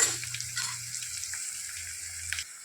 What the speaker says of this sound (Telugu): ఆనియన్స్ ఇలా వేసుకొని ఇలా వేగనివ్వాలండి గోల్డెన్ కలర్ వచ్చేంత వరకు